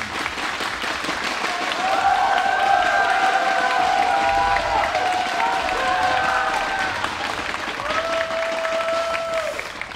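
A live esports crowd at a StarCraft 2 tournament semifinal applauds and cheers steadily for a player as he is introduced, a dense wash of clapping with whistles, under an announcer's voice.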